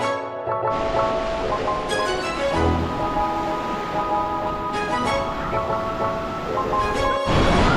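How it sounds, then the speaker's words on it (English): Ocean waves break on a beach at Da Nang, Vietnam, making a loud, continuous surf roar with repeated crashing surges throughout. "The waves are quite brutal."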